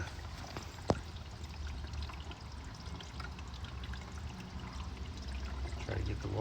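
Water pours in a steady trickle while a Grundfos SCALA1 pump is primed for rain barrel irrigation. The faint outdoor stream has a sharp click near the start and grows slightly louder toward the end.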